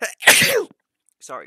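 A single sharp sneeze bursts out in the middle of a casual Minecraft gaming session, bracketed by short bits of conversation from the players.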